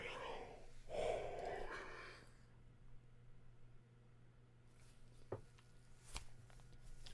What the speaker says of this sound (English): I gotta yawn.